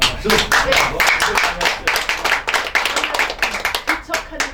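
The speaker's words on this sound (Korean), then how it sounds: "지금 이 두 분들 정말 박수 쳐주고 싶어요" Hands clap loudly and unevenly at a Methodist missionary leadership conference. The bursts are close and choppy, with voices blended in.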